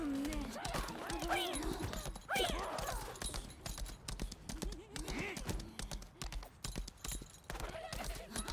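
Horse hooves clip-clop in Lost Ark as a mount travels through a village area, a steady rhythmic clatter mixed with game effects, cackling and occasional whinnies, while someone talks over much of it.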